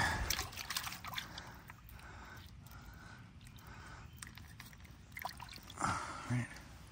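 Water trickling and splashing as a small figurine dug up from a prehistoric canal is rinsed off: quiet, uneven dribbling with faint voice-like sounds in the background.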